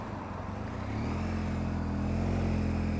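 A BMW motorbike leaves the BMW Inverness dealership with its engine note climbing into a steady, loud, close drone. Wind noise and road rumble run under it.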